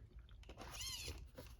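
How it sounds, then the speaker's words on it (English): Metal gears turning inside the steering servo of a Traxxas Slash 4x4 RC car as the wheel is turned: a short, close whirring whine that rises and falls over about a second amid faint crunchy mechanical noise. "what you hear there are the gears turning inside of the servo when I turn the wheel"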